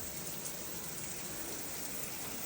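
Water rains down from an old burst iron pipe in a basement septic room, a steady, even hiss of spray and splashing that fills the space continuously without pause, fairly faint and with no voices.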